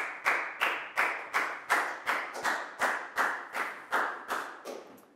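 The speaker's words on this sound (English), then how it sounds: "Big round of applause for Damn too" A Year 4 class claps in unison for a classmate during a maths lesson: about a dozen sharp, evenly spaced group claps in a steady rhythm, close and fairly loud, fading slightly at the end.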